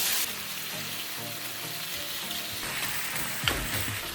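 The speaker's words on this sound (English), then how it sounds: "Heat a pan over medium heat, then cook the galbi for about 3 to 4 minutes on each side until nicely browned." Marinated Korean LA galbi beef short ribs frying in a pan over medium heat, a continuous close sizzle and crackle with a brief bump of the pan near the end, no voices.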